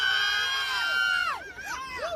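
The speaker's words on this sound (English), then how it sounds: "It was just the people that were gathered together screaming." A protest crowd gathered in Foley Square, New York, screams together in a loud sustained wail that breaks into overlapping wavering shrieks and yells close by.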